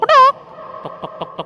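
A voice imitates a chicken, with one loud, drawn-out squawk followed by four soft, evenly spaced clucks, heard close and with no other sound.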